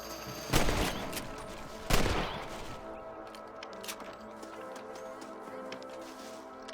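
Two sharp gunshots ring out in Red Dead Redemption, the second about a second and a half after the first, each trailing into a lingering echo over a low, steady game ambience.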